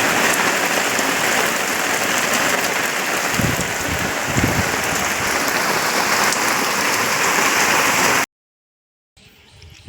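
Rain falls hard and steadily in a loud, continuous rushing hiss, with a couple of brief heavier splashes. It cuts off abruptly near the end and gives way to quieter background.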